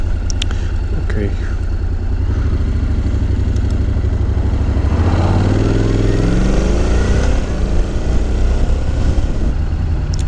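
Honda NC750X DCT motorcycle engine droning loudly and steadily on the road, rising in pitch as it accelerates and shifts through gears, with heavy low rumble and wind, no talk.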